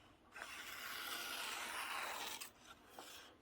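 A sharpened knife cuts through a sheet of A4 paper with a close, raspy tearing scrape lasting about two seconds, followed by a couple of fainter rustles.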